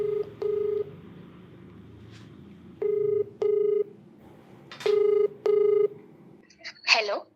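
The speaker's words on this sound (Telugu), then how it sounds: "సో మరి ఒకసారి కాల్ చేసేస్తానండి" A telephone number is dialed with keypad tones: six short, clear beeps in pairs with brief pauses between them, followed at the end by a short burst of a voice.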